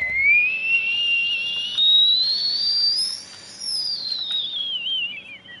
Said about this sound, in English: Stop with the whistling, please.